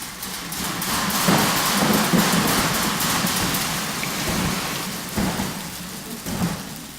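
Percussionists at a team-building urban percussion session imitate a thunderstorm with rain and wind, producing a continuous rushing patter with periodic heavier rumbling swells, no voices.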